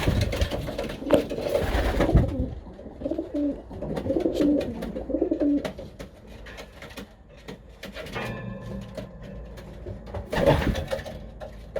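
Pigeons cooing inside a loft, with repeated soft throaty coos in bursts, fairly close, plus a few scuffs and knocks in between.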